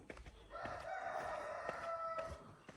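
A rooster crows in a long drawn-out call at a moderate distance on a farm in the early morning, with chickens and faint farmyard background noise and no talking.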